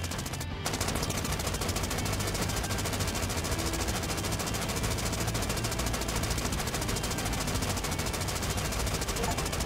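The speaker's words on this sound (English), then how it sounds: "Grenades everywhere! Woo! Machine guns and grenades!" Machine guns and grenades in the 1 Million Zombies video game, a dense, continuous rattle of rapid gunfire with blasts mixed in, steady and loud from start to finish.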